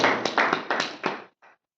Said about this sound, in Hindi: तालियों से कम से कम स्वागत